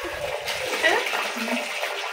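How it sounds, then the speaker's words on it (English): Water drains from a Von semi-automatic washing machine with a steady rushing, gurgling flow, joined by a few low knocks early on, and heard close up. "So we are going to drain the water."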